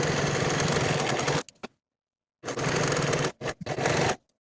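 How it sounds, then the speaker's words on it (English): A serger runs in quick bursts, overlocking the raw edges of fabric pieces for a summer top: a loud, steady mechanical whir for about a second and a half, a pause, then several shorter close-up runs. "I'm going to finish the raw edges using my serger"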